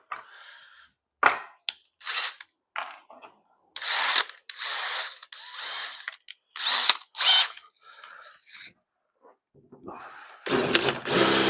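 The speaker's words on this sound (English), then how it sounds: "I got to drill the center hole out now" A power drill whirs in a series of short bursts separated by pauses, close and loud, with a final longer run at the end.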